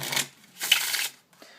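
A deck of playing cards is shuffled by hand for a street card trick, two quick riffling bursts of fluttering card noise separated by a brief pause, close and clear.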